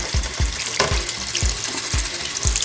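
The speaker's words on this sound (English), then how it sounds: "rub it against the little waffle corner down here on the bottom" A makeup brush is rubbed rhythmically on the waffle corner of a silicone cleaning board under running water, making about six evenly spaced squelching thumps over a hiss of flowing water.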